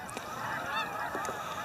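Canada geese honk while spiraling down to land on a lake, a flock of overlapping nasal calls at moderate distance over faint outdoor background.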